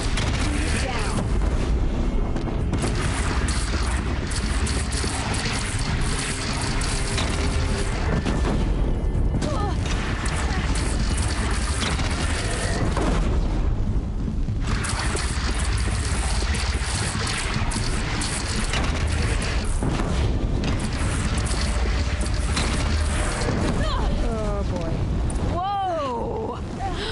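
A bridge is shot down and blows apart in the Horizon Zero Dawn video game: loud, sustained rumbling blasts and crashing debris, thick and continuous, with game dialogue and score running over it.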